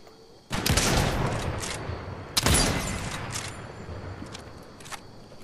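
Gunfire in Fortnite, two loud bursts of rapid shots, each trailing off into a decaying rumble, with faint clicks toward the end.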